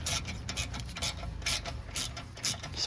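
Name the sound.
ratchet wrench removing Mercedes GL450 brake bolts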